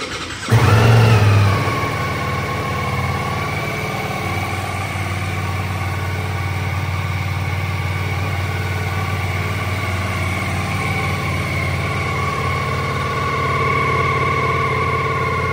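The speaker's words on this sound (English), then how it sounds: "I'll do a quick cold start here so you can hear it." A 2022 Ducati Multistrada V4S motorcycle cold-starts with a sharp crank and catch, then settles into a steady, loud, close idle with a high whine running throughout.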